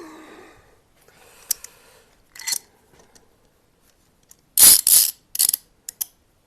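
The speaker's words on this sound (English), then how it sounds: "These clamps don't have the cool rubber grip on them." Woodworking clamps are tightened while gluing headstock veneers, giving sparse ratcheting clicks and sharp mechanical rasps in short, irregular bursts close to the microphone, with quiet gaps between them.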